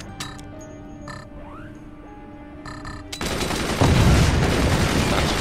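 Machine guns open up in the fort-building strategy game Forts: after a few sparse clicks and croaking blips, a loud, dense rapid-fire burst kicks in halfway through and keeps hammering to the end.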